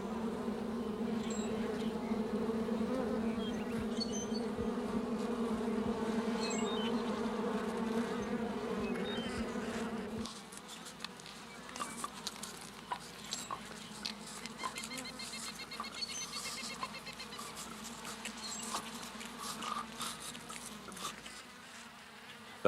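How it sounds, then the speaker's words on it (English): A colony of honeybees in the oak hickory woods of East Texas hums steadily and loudly for about ten seconds, then the drone drops away to scattered nearby buzzing and faint clicks. "a colony of honeybees"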